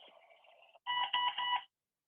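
A Bee-Bot robot toy sounds electronic beeps: a softer two-tone chirp, a short gap, then a louder sustained tone broken into three quick beeps, ending abruptly in silence.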